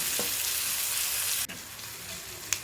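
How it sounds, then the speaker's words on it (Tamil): Chopped tomatoes and onions are sautéing in a pan for a vegetarian curry, giving a steady, close frying sizzle. A brief dip near the middle is followed by a small clatter at the end. "ரெண்டு தக்காளி போட்டு பொடி பொடியாக கட் பண்ணி வச்சுருக்கேன் சின்ன நார்மல் சைஸ் தக்காளி அதை போட்டு நல்லா வதக்கி எடுத்துக்கலாம்"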